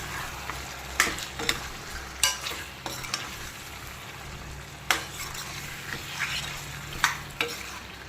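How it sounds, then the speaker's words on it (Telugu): Ground masala paste stirred into mutton curry with tamarind leaves frying in a pan: a continuous low sizzle punctuated by spoon scrapes and clinks against the pot at irregular intervals, close by with no talking. "ఇప్పుడు మసాలా అంతా వేస్తానండి"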